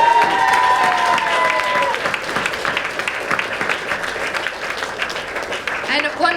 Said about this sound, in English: So big round of applause for all of those people.